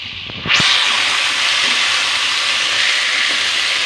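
Freshly cut vegetables tipped into hot oil with split green chillies, setting off a sudden loud, steady sizzle that bursts in after a brief quiet start and keeps hissing evenly.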